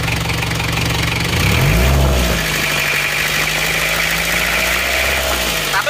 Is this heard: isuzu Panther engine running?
yes